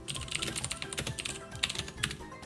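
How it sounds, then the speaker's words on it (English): Rapid typing on a computer keyboard as a password is entered, a dense run of close, crisp key clicks with irregular rhythm and no talking. "So I don't have to keep typing in my password."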